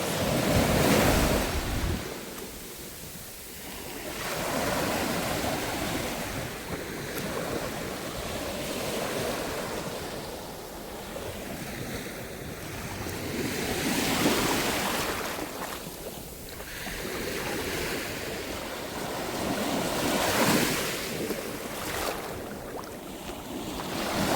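Sea waves surge and break on a shore in slow repeating swells, each rushing wash rising and falling, with wind buffeting the microphone and no voices.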